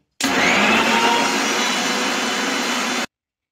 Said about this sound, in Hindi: मैंने रख दिया है मिक्सी में जार को और अब हम इसको बहुत बारीक पीस लेंगे